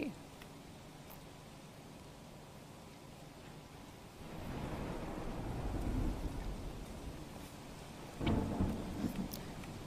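Heavy rain pours down during a thunderstorm in Dolvan, Tapi, Gujarat, a steady wash of rainfall that swells louder midway, with a sharp thunder crack rolling in near the end.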